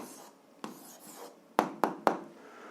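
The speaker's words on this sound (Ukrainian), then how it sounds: "Записуємо відповідь, пишемо відповідь" Pen writing an answer during an algebra lesson, with faint scratchy strokes followed by three sharp, close taps or quick marks near the end, quiet with no talk.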